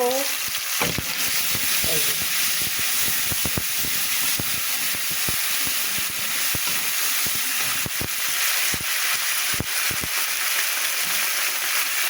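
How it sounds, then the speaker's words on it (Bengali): Cumin and ginger spice paste frying and being stirred in a pan, a steady close sizzle and hiss broken by frequent scraping knocks of the spoon, with no talking. "এবার মশলাটা আমি একটু নাড়াচাড়া দিয়ে নিব"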